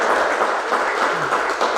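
A literary event audience applauds an author, a loud, continuous wall of clapping from a full room with no talking heard.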